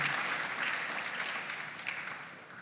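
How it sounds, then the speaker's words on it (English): An audience at an agricultural school farm awards grand final claps in steady applause, a dense even patter that fades slightly toward the end, with no voices over it. "I want to give us all a round of applause for coming to this point in this situation."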